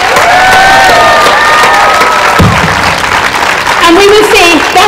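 A crowd at an early childhood learners gathering in Cork applauds and cheers loudly, continuous clapping mixed with shouts and whoops, with some voices carrying over the din.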